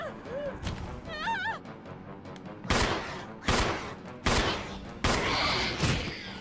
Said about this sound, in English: Four shots.